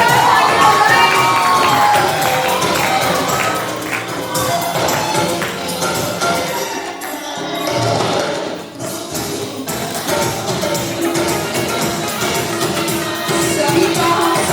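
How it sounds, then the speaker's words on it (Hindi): Loud crowd applause and cheering at a book launch event, with shouts and whoops rising over steady clapping that dips briefly midway and then swells again. "क्या बड़ी जोरदार तालियां हो रही हैं।"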